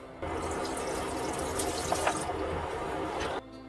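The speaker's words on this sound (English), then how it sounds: "Put the water here, right here. To put on that lettuce." Water pours steadily onto lettuce plants in a garden, a continuous close splashing stream that starts abruptly and stops cleanly after about three seconds.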